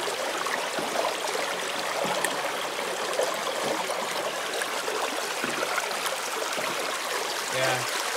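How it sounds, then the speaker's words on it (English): Water running in a creek, a steady close-up gurgle and trickle with faint knocks and taps mixed in. "the way the water's running in here"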